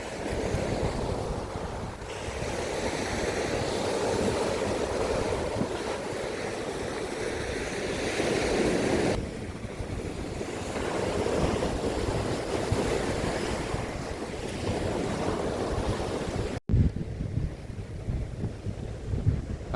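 Waves rolling and crashing at Shiroda beach in the Konkan region, a sustained roar with surges and gusts of wind noise, loud and unbroken apart from a brief cut near the end.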